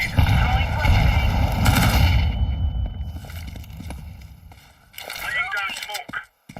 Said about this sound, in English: Incendiary out. Grenade. Throwing a grenade.